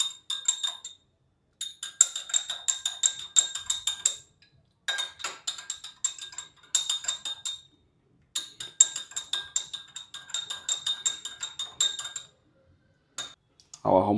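A spoon stirs a home remedy in a container, clinking fast and repeatedly against its sides. The metallic ticking comes in several bursts with short pauses between them, and it is near and fairly bright.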